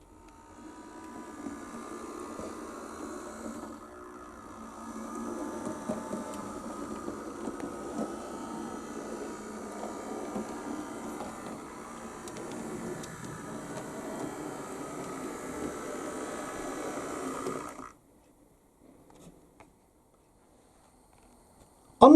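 A Hornby Class 47 model shunter locomotive runs on a model railway layout, giving a steady, fairly faint mechanical whir and rumble for most of the stretch before cutting out to near silence.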